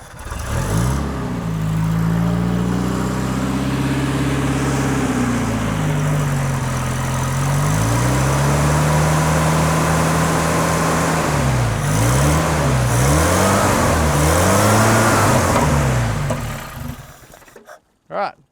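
A Toyota Celica RA28 fastback engine starts and idles roughly, then revs up and down repeatedly in close, loud swells before cutting off abruptly near the end, with people talking over it.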